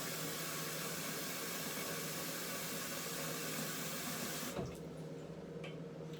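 Water runs steadily into a pot from a tap, a constant hissing flow that stops abruptly near the end, leaving a quiet room.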